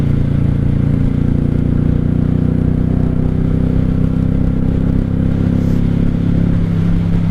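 A 1995 Honda Shadow VLX 600 (VT600CD) cruiser that sat unused for years, ridden in a low gear; a loud, steady engine drone holds from start to finish with wind rush around it.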